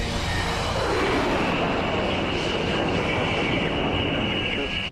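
A Harrier vertical take-off jet roars with a dense, steady blast of engine noise holding loud for several seconds, close and unbroken, then cutting off abruptly.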